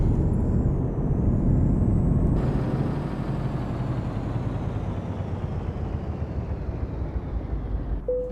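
Truck in Euro Truck Simulator 2: a loud, steady engine drone with a high whistling tone that drops away after a couple of seconds, then a sharp short air-brake hiss right at the end.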